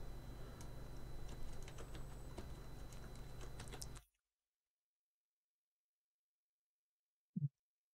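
Rapid, dense key clicks from a PC computer keyboard for about four seconds, then sudden silence broken by one soft low thump near the end.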